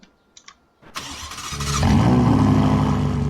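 Ferrari P80/C engine starting up in the Driving Empire racing game: after a few faint clicks, a starter whir catches and the engine fires into a loud, steady, close idle with a low rumble.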